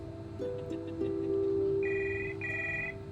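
A telephone rings with bright electronic tones in repeated bursts, fairly quiet, over a low background hum, with no talk.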